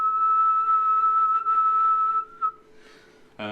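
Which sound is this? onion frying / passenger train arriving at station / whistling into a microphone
whistling into a microphone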